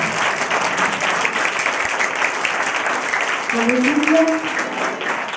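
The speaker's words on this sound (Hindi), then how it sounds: "एक बार सब अपने लिए ताली बजाएं" A church congregation at a sermon applauds in sustained, dense clapping, with a voice calling out near the end over the applause.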